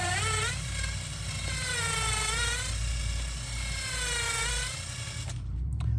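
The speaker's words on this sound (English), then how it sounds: "drill slowly" Power drill boring slowly through part of a DIY chemical smoke device, a loud, close whining motor with pitch that sags and rises under load for several seconds before cutting off, no talking.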